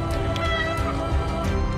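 Several cats meow repeatedly in a cat paradise scene of the game A Space for the Unbound, a quick overlapping run of bright, tonal mews over a soft musical background, close and clear.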